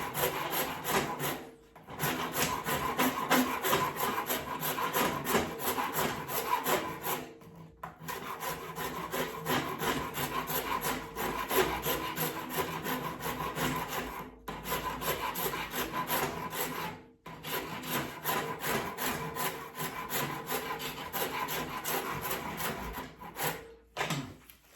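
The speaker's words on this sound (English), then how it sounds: "you're trying to find these bits that might be uncomfortable on the stick, and then you're rasping them away." A rasp working over a handmade Irish wooden walking stick, smoothing uncomfortable spots: steady, close rhythmic scraping strokes running almost continuously, with a few brief pauses between passes.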